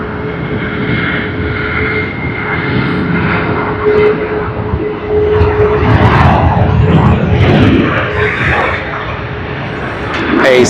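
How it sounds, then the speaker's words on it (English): A passenger jet is heard at Sydney Airport as a steady, loud engine roar that swells and falls over about ten seconds, with a faint voice now and then underneath. "This was the first aircraft to land at Sydney Airport today."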